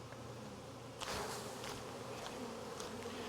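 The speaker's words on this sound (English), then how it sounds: "the majority are worker bees, and I don't want these drone bees." A dense, steady buzz of a swarm of honey bees, worker bees and drones, continuous and fairly close, with louder swells as individuals pass near.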